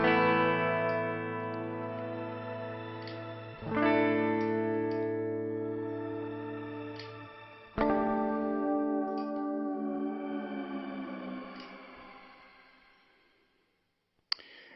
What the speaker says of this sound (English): it adds that sort of crystalline, echoey choir singing in the background sort of sound